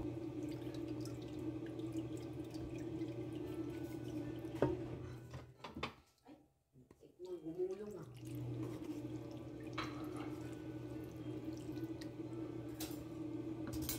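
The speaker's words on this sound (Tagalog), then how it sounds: "Hugasan lang natin ito para mawala yung lagkit-lagkit niya." Cooked tapioca pearls rinsed in water to remove their stickiness: a steady running-water wash with splashing and squishy stirring, a short lull in the middle, then the flow resumes.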